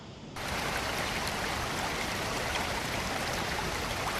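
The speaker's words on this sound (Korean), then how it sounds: "보통은 한국의 폭포들은 다 세로로 떨어지잖아요" A steady, dense rush of falling water roars continuously, broad and even, with no voices, from a wide waterfall in Cheorwon, South Korea.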